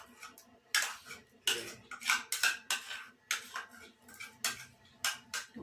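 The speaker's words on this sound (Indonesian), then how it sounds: "Kemudian kita aduk merata." A spoon scrapes and clinks rhythmically against a bowl while ground garlic is stirred into a mackerel empek-empek fish mixture, giving repeated close, bright metallic taps and scrapes.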